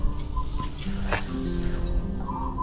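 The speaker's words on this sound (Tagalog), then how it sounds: "Ang sarap magkape dito habang naririnig natin yung huni ng mga ibon" Faint bird chirps come and go over a steady outdoor hiss in the rural Philippine countryside, with a few scattered short calls in the distance.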